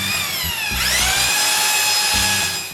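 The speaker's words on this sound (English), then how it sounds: "Then I screw two screws on top of each post." Power drill driving screws into the top of a wooden post while framing a shop wall, a short whirring burst that rises in pitch and holds under load, close and loud.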